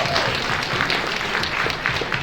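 Steady applause fills a fundraising event hall as the crowd claps together for donors, a continuous wash of many hands at moderate loudness, without talk on top.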